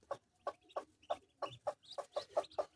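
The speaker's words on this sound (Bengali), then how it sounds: "এই দেখেন মুরগিগুলা বসে আছে" Brooding hens on a farm cluck in a steady series of about ten short, evenly spaced calls, close and clear with no talk over them.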